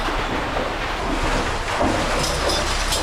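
Broad, steady roar from waterfalls deep inside a 400-foot sinkhole, a continuous rumbling wash heard at a distance with no breaks and no talk over it.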